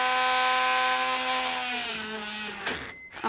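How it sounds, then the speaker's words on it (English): A Dremel rotary tool drilling holes in felt coasters whines at high speed, its pitch sliding downward as it spins down, ending with a brief scrape and click. "I have a Dremel here with just a standard bit in it, and I'm going to turn it on"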